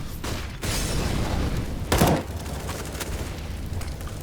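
A grenade blast in Counter-Strike: Global Offensive during an esports match, a loud booming burst rising out of dense game noise and muffled rumble, with a sharp crack near the two-second mark.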